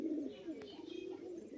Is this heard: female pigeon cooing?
yes